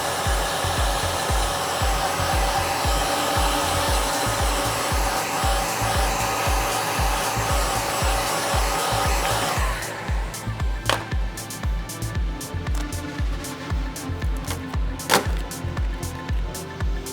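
A heat gun blows a loud, steady roaring hiss while heating vinyl wrap film, then the tone shifts and continues more quietly with scattered taps and handling noises.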